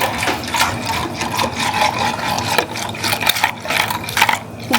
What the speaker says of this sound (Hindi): तो इसमें हम पानी डालेंगे। अभी पहले इतना मथते हैं।